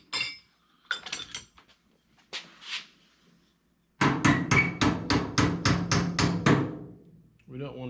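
A run of about ten quick, evenly spaced hammer taps ringing on a Ford Model A car door, loud and close, after a few softer scattered knocks.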